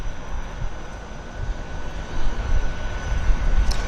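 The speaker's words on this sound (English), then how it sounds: "That's pumping the flaps down for takeoff as he porpoises away." A floatplane in Vancouver Harbour taking off from the water, its engine a steady, fairly loud droning roar that builds slightly toward the end.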